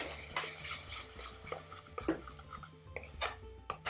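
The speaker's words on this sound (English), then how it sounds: "what I'm going to add now are these lovely lentils" Lentils are stirred into a pot of curry with a spoon, giving close scraping and knocking against the pot in irregular bursts under a faint low background hum.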